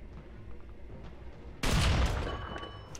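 Tank main gun firing in the video game War Thunder, likely from an M2 tank. A quiet background gives way to a single loud, close cannon blast that booms and then decays over the following second or so, with no talking.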